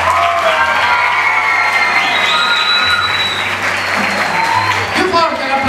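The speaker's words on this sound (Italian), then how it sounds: "Più forte l'applauso." A concert audience applauds and cheers as a singer-songwriter is called onstage for an album presentation, loud continuous clapping with scattered whoops and shouts filling the room without pause.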